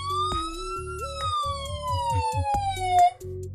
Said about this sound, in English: It's got a flashing light and a siren here.